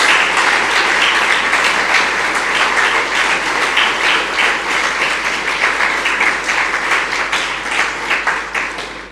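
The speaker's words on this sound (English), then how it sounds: "please join me in giving Mr. Stiell a warm, rousing round of applause" A lecture audience gives a warm round of applause, dense and steady clapping filling the hall for several seconds before slowly tapering off.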